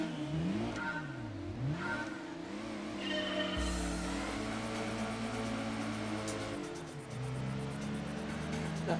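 A car engine in a racing video game revs hard and shifts through gears, its rising and falling pitch sweeping steadily throughout, loud and close, with a brief change in tone midway.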